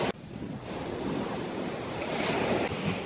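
Sea waves wash steadily onto the shore at Kynance Cove in Cornwall, a continuous close surf roar with wind buffeting the microphone and no voices.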